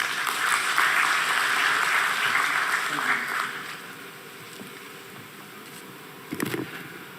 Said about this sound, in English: Let's welcome him with a round of applause.